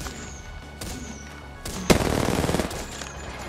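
Bursts of automatic gunfire in the shooter game Apex Legends, a brief shot early on, then a loud rapid volley near the middle that trails off, with quieter game ambience around it.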